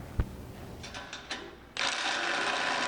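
A nylock nut and washer are ratcheted tight on a 1955-1959 Chevy chassis: a sharp clank, a few quick ratchet clicks, then a steady loud clicking run of the wrench, close and alone.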